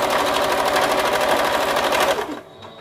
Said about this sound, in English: now we're going to want to sew all these down